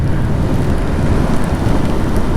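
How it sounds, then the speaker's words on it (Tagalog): Heavy rain pours steadily and loudly in Vietnam, a dense continuous roar with no pauses or voices. "Mukhang lumalakas na yung ulan"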